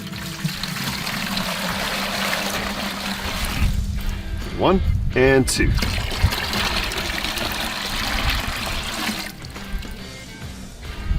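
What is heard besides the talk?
pouring water into bucket for turkey brine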